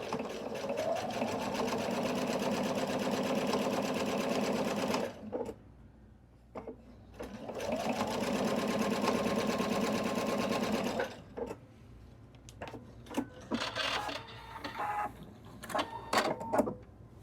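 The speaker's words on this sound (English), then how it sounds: "then I need to sew that" A sewing machine stitches a quarter-inch seam on a quilt block in two steady, buzzing bursts of several seconds each, followed by scattered clicks and handling noises of fabric and tools nearby.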